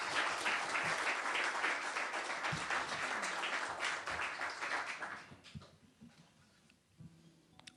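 Applause from a concert audience, a dense wash of clapping that holds steady for several seconds and then fades to a few scattered claps.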